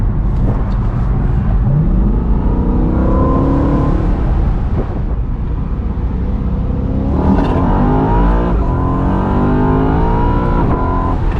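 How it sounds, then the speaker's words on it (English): A 2011 BMW E93 M3 convertible, top down, accelerates loudly, its pitch climbing through gears with a brief drop between shifts, under steady road and wind noise. "Man, that motor, you hear that motor,"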